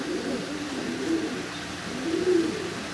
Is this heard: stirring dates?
no